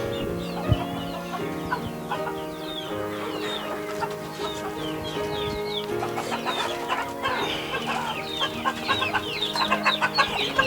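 Chickens and young chicks cluck and cheep steadily at a poultry seller's stall, a dense layer of overlapping calls with sharper peeps bunching up toward the end, alongside music-like tonal sound.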